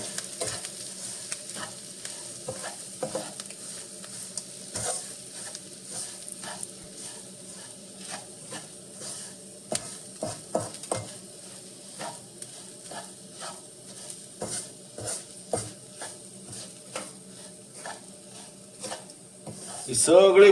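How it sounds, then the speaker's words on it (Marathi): Semolina (rava) roasting in a pan of tempering for upma, with a quiet sizzle and irregular scraping taps of a spoon stirring it, close and fairly soft. "हा दीड वाटी रवा घालून या फोडणीवरती चांगला परतून घ्यायचा आहे"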